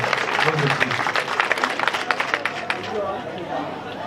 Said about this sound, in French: je voudrais qu'on applaudisse nos femmes qui nous accompagnent